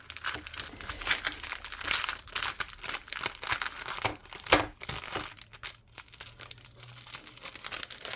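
A plastic pouch holding a pair of thinning scissors being crinkled and torn open up close, a run of dense, irregular crackling and rustling bursts with no talk.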